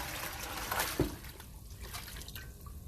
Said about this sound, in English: So what I'm going to do is get rid of this water.